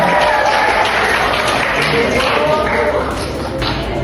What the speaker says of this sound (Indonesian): Beri aplaus kepada Bapak Mulyono.